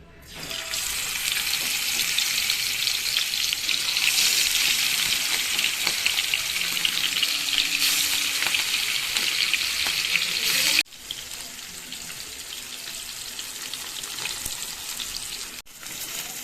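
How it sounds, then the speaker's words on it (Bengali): Salt-and-turmeric-rubbed fish pieces sizzle and crackle in hot oil in a wok, a loud, dense, continuous frying hiss that drops slightly in level partway through and then carries on steadily. "এখানে তেল গরম হয়ে গেছে, মাছগুলো দিয়ে দিচ্ছি ভাজার জন্য"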